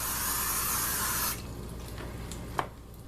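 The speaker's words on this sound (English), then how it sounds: "I spray it really good because I like that butter flavor." A steady hiss of butter cooking spray from an aerosol can for about a second, then quieter room noise and a faint click.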